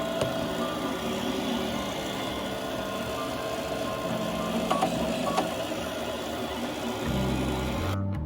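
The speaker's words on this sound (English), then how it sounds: "has your printer ever sounded like this?" A ROBO3D R1+ 3D printer with a faulty motor runs with a steady mechanical whir and buzz, a continuous drone with faint ticks and shifting pitch, close and moderately loud.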